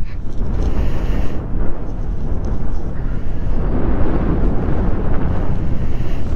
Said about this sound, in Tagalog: Ang lakas ng hangin guys, hindi tayo makapagpapalipad ng drone